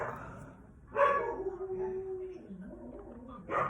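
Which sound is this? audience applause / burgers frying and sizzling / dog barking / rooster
dog barking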